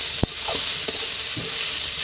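Mustard greens (sorshe shak) fry in a generous amount of oil, with a steady sizzle under a few sharp scrapes of a spoon stirring the pan.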